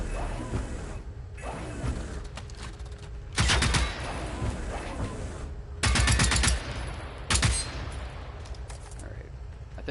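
Loud, close bursts of automatic gunfire and explosive rocket impacts hit a tank in the video game Generation Zero. Several heavy volleys are separated by brief pauses filled with lighter clattering.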